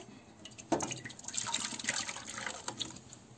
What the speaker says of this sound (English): Into this I'm going to add the milk and the cottage cheese which I have blended.